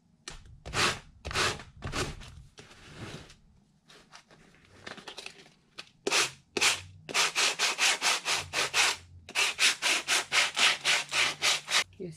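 Rough edges of a Dollar Tree craft piece sanded smooth by hand, a close series of rhythmic scraping strokes that start in irregular bursts and settle into a steady back-and-forth run of about a dozen strokes, with no talking.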